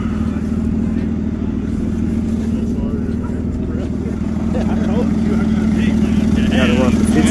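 Truck engine idling steadily with a low, even droning hum, close by and unchanging, while people talk over it.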